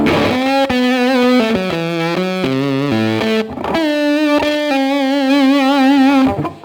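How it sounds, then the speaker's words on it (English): A smooth, mellow electric guitar melody played on the neck and center pickups together, with sustained, rounded notes, played alone with slight vibrato on the held tones. "if you put the neck pickup and the center pickup together, you get something very mellow like this."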